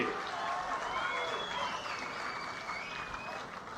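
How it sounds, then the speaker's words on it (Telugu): A political rally crowd claps and cheers through a public address system, a broad wash of applause with voices rising over it, steady and moderately loud. "గట్టిగా చప్పట్లు కొట్టి అభినందించండి"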